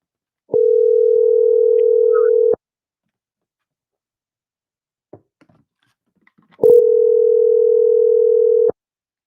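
A telephone dial tone sounds loudly while a call is being placed, a steady tone lasting about two seconds, then silence with faint clicks, then the steady tone again for another two seconds.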